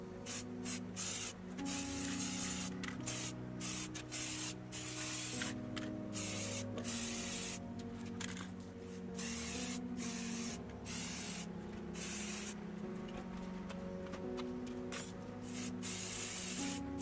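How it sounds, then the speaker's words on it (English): White and black spray paint hisses onto old lampshade frames in many short bursts and longer sprays, close and fairly loud, separated by brief pauses. "I'll be spraying a coat of white and also black spray"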